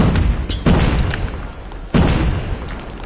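Frag grenade going off in a competitive video game match, two heavy booming blasts about a second apart with rumbling tails, loud and close.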